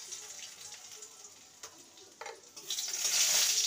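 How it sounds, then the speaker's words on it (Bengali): Chopped garlic hits hot refined oil in a kadai, with a quiet frying hiss broken by a couple of stirring knocks before the sizzle swells loudly toward the end. "রসুনটাকে ভেজে নেব।"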